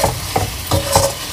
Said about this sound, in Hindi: गोभी और आलू को पहले ही फ्राई करके पकाया था उसको इसमें डाल देते हैं इस तरह से, और सभी को मिक्स कर लेंगे